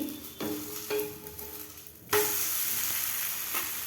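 A wheat flour vegetable dosa sizzles on a hot pan, a steady frying hiss that jumps louder partway through as batter or fat hits the surface, with faint scraping touches earlier.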